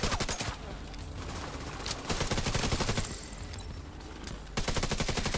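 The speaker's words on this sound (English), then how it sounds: "You can see just how fast I'm killing these ads, these NPCs, even with my, you know, just the assault rifle damage" Assault rifles fire in The Division 2 during a heroic mission against enemy NPCs, with rapid bursts of dense automatic shots broken by short pauses, loud and continuous throughout.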